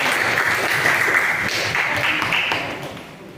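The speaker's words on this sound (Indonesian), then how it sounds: "Tepuk tangan dulu." A classroom of high school students applauds during a religious education lesson, dense and loud clapping that stays steady and then fades slightly at the end.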